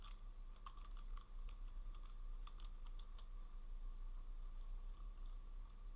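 A computer keyboard clicks in irregular bursts of quick keystrokes as a prompt is typed, faint and close, over a low steady background hum with no talk.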